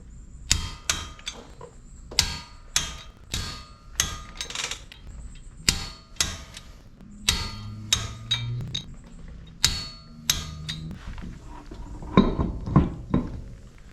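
A wrench torques the lug nuts on a third-generation Toyota Tacoma wheel in a star pattern. Sharp metallic clicks come one after another at a fairly steady pace, about twenty in all, each crisp and close.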